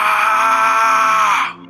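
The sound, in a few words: anguished scream, audio drama sound effect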